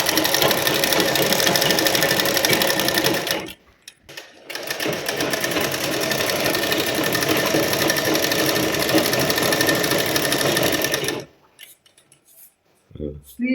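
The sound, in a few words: sewing machine stitching cloth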